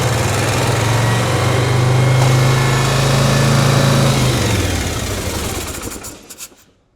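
A 1977 Harley-Davidson Shovelhead motorcycle engine idles high and loud with a steady buzzing drone, then sputters and dies away to silence near the end.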